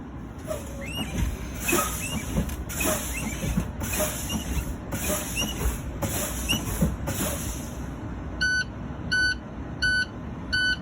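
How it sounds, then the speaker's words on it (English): A truck's air system chugs rhythmically with hissing air as pressure drops, giving way to the low air warning buzzer's series of sharp, evenly spaced electronic beeps near the end. "Low air warning lights, and I can hear the buzzer."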